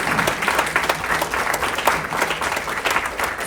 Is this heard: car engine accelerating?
no